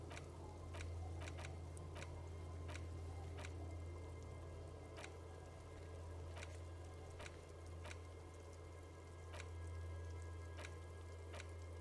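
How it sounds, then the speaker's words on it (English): Rain in Disco Elysium: a soft, even wash of rain with sparse, irregular drips ticking on a surface, steady and quiet over a low background hum. "It's getting late, and it's raining."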